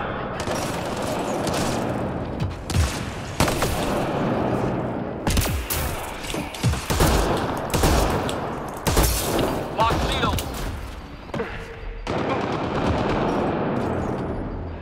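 Enemy gunfire in Mass Effect: Andromeda on insanity difficulty: repeated bursts of automatic fire and sharp shots with occasional heavier booms, loud and uneven across fifteen seconds, with a voice talking over parts of it.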